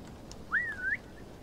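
In Assassin's Creed Valhalla, a single clear whistle slides upward and then dips in a smooth curving tone lasting about half a second, sounding alone against quiet game ambience.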